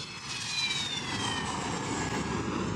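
A Syrian Air Force MiG-23 jet on an airbase just back from a bombing run, its engine giving a loud, steady roar with a whining high tone that slowly falls in pitch, with no voices.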